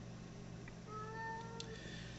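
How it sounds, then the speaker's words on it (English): A male kitty yowls in the background, a long drawn-out wavering cry at moderate distance, followed by a second rising call over a steady low hum. "He's just yowling because he's a kitty."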